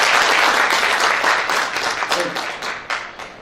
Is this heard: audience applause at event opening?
yes